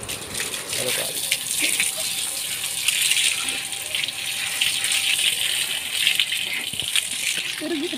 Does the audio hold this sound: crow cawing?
no